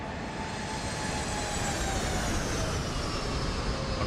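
Steady, loud roar of Boeing 737 MAX 8 jet engines as the airliner flies past in a flight simulator, a broad continuous rush with a faint whine that slowly falls in pitch.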